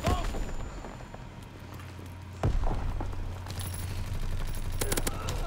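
Gunfire in the World War II shooter game Call of Duty WWII, with a volley of shots, a heavy boom partway through and sustained battle noise throughout.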